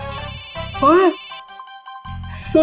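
A melodic phone ringtone plays loudly with a steady high tone, broken by bleat-like sounds and a brief spoken word, then resumes.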